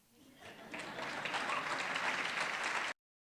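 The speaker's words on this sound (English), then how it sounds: "You can clap for that." An audience breaks into applause, starting thin and swelling into steady, full clapping that holds before stopping abruptly.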